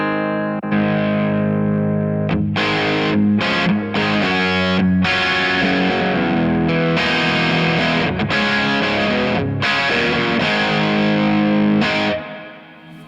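Electric guitar with a gritty, crunchy Kemper amp tone through a Boss MS-3 strums and picks chords with short pauses, loud and close, no voices.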